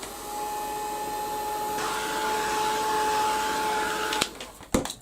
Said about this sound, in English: I'll give that a quick blast with the heat gun.